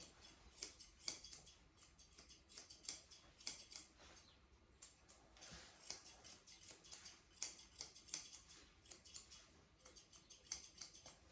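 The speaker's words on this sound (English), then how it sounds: "So I'll just trim the bottom there." Scissors trimming a Shih Tzu's hair, quiet close-up snips in quick irregular bursts, crisp metallic clicks repeating throughout with brief pauses between runs of cuts.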